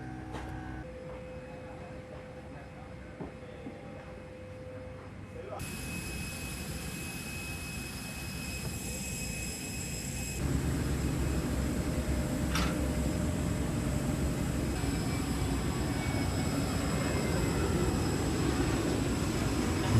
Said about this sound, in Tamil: 747-400 ரக விசேட சரக்கு விமானம் நிவாரணப் பொருட்களுடன் இன்று அதிகாலை கட்டுநாயக்க விமான நிலையத்தை வந்தடைந்தது.